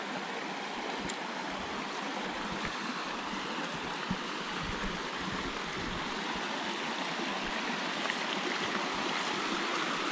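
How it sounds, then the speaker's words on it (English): Steady, rushing water from a waterfall at Mount Hart, Australia, roars without pause, a dense continuous wash of falling water with no voices. "The waterfalls here."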